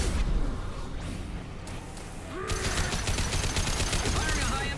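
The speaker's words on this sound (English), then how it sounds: "Firing a high impact shot." Gunfire from a high impact shot in the video game Mass Effect 2: a quieter stretch gives way to a dense, rapid volley of shots over the second half, loud and continuous, with game sounds mixed in.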